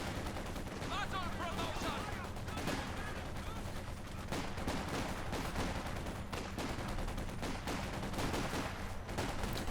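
Bren light machine guns in Company of Heroes 2 rattle in dense, overlapping bursts of rapid gunfire, a continuous loud battle din with voices talking over it.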